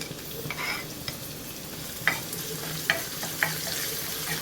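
Onion, dried red chillies, curry leaves and chopped garlic frying in a pan for Kerala jackfruit erissery, a soft steady sizzle with a few sharp crackles and spatters and occasional stirring scrapes.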